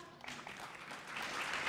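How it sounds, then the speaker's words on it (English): Audience applause at a women's organization event, steady clapping from a crowd that holds even and swells slightly toward the end, heard from within the room. "So thank you and applause for Thank you and applause for Mariela Camilleri"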